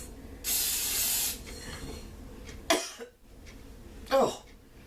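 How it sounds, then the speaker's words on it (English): Vegetable oil cooking spray hisses into a bowl in one long burst, followed by a couple of shorter puffs and a cough-like breath; close and fairly loud in a quiet kitchen. "I'm just using my vegetable oil spray, not canola oil"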